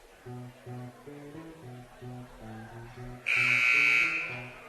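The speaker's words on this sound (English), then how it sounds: "Matthew Hoffman nailed a three-pointer at the buzzer for Platte Valley in Brush." A loud electronic buzzer blares for over a second at the end of a high school boys basketball game, following steady rhythmic pulsing tones in a gym.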